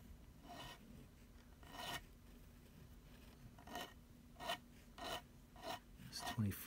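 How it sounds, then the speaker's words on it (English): A metal file rasping across the frets of a vintage Kramer Pacer electric guitar, a series of short, quiet scraping strokes at irregular intervals over a faint steady hum, close up. "You can see where my file's hitting."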